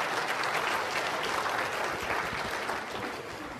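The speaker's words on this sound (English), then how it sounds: "Let's give them all a round of applause and welcome them for coming today" A podcast audience claps to welcome a panel of guests, a dense, sustained burst of many hands heard close and loud, holding steady before starting to thin out and fade toward the end.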